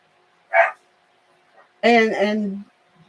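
A dog outside the house barks twice, a short bark followed by a longer, drawn-out one about a second later, clear against a quiet room, while someone runs around outside.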